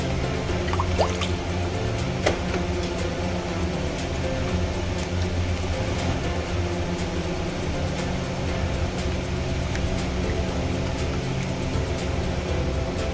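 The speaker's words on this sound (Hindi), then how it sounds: "अब हम इसमें ऐड करेंगे वाटर।" Water added to a tomato soup slurry in a pan while cooking, a steady liquid pour and dripping running continuously over a low background hum, with no voices.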